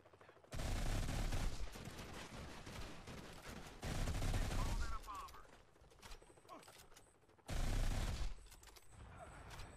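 Rapid bursts of gunfire from the Hans and Gret gun in the Modern Combat 5 shooter game come as three loud, sustained volleys, with quieter game sounds between them.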